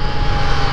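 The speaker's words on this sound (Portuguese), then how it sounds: "Essa moto puxa muito" A new motorcycle pulling hard on a street gives a loud, steady, close engine roar that fills the whole short moment without a break.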